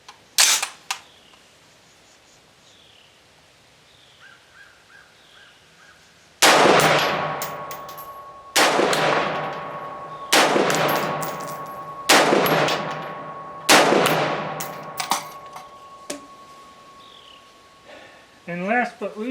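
Anderson AM-15 rifle firing 5.56 ammunition during an accuracy test, five loud single shots spaced a couple of seconds apart, each sharp crack trailing into an echoing decay, with faint clicks and brief speech around them.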